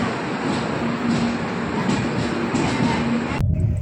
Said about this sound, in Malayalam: ചുമന്ന ശബരി എക്സ്പ്രസ് പാലെത്തി.